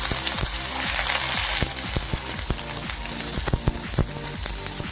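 Onions frying in oil for a drumstick curry made with milk, a dense crackling sizzle with rapid popping spatters, close and fairly loud with no voices.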